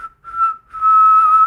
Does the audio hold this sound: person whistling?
yes